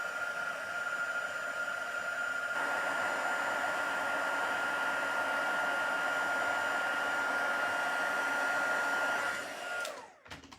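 A heat embossing tool blows hot air in a steady, even whir for about ten seconds, then cuts off abruptly.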